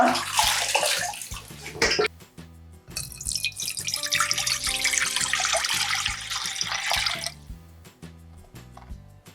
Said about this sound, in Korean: 이렇게 살살 흔들어서 3번 정도 씻어주시면 돼요